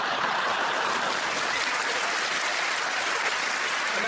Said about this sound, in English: And now you're really applauding.